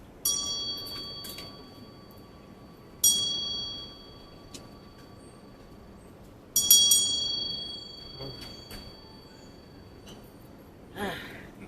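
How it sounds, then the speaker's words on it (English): A hand bell is rung in a few separate bright strikes at a memorial potluck and barbecue, each ding ringing out and fading over low room noise, with no talking. "Here, I get to ring the bell."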